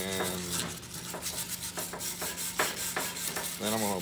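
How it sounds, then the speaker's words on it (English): A wire brush scrubs loose rust off an old J.H. Williams wrench in quick, uneven rasping strokes, close and fairly loud, with brief pauses between strokes. "I'm gonna try to just get all the loose stuff off of here with a wire brush"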